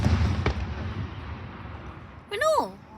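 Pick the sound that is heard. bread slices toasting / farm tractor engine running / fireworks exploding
fireworks exploding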